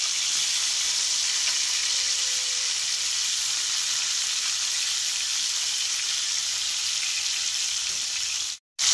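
Fish fillets frying in hot oil in a pan, a steady dense sizzle that runs unbroken and fairly loud at close range, with no talking, cutting out abruptly for a moment near the end.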